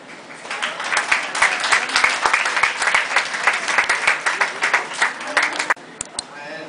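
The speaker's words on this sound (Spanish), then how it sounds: "te queremos dar un aplauso" An audience applauds a representative of the governor at a folklore awards ceremony, with dense, steady clapping for about six seconds before it abruptly thins to a few scattered claps.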